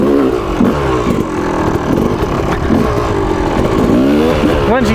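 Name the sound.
Yamaha YZ 250 dirt bike engine revving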